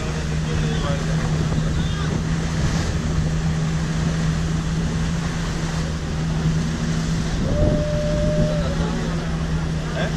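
A catamaran motors across calm ocean water, its engine droning steadily with continuous wind and wash noise throughout, and faint voices now and then beneath the rumble.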